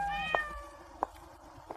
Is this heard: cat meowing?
yes